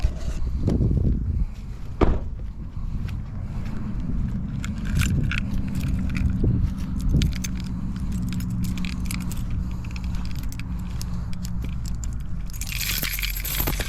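Keys jangle in short metallic bursts near a pickup truck, close and fairly loud against a steady low engine or vehicle rumble, with brief handling clatter and a sharper hiss near the end.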